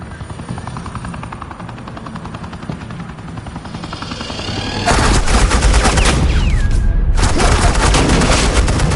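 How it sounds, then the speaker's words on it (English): Suppressing gunfire in the Batman: The Enemy Within game starts as a steady mechanical whir, then erupts into loud, dense continuous automatic fire with a short gap and a whistling tone, no talk. "suppressing fire"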